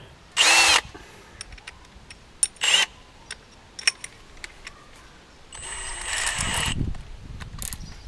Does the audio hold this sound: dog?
no